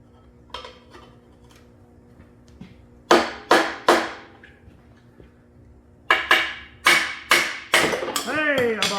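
Brass mallet striking a crankshaft part on a 1960s Simplicity Wonderboy 600 lawn tractor, giving two sharp close blows, then a faster burst of five or six metallic knocks, followed by a ringing scrape.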